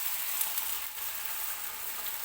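Omelette batter with onion and tomato poured onto hot oil on a griddle gives a steady, bright, continuous sizzle, close and even throughout with no talking.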